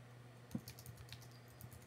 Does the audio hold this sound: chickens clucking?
no